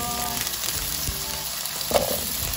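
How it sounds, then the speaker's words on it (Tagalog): Carrots and potatoes sauté in hot oil in a frying pan for a beef curry, giving a steady close sizzle with a few soft stirring knocks and one brief louder clatter near the end. "Napainit ko na po ang kawali at igigisa ko muna ang carrots saka potato dito po sa oil"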